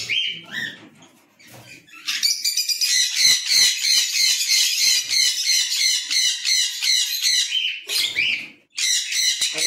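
Pineapple conures in a bird loft give a long run of loud, grating squawks close by, rapid pulsing calls lasting several seconds after a few opening shrieks, with a brief pause before another burst.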